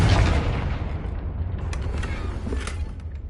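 A Confringo blasting spell bursts in a Hogwarts Legacy duel, a deep booming explosion with a rumbling tail and a few faint pops and crackles fading out.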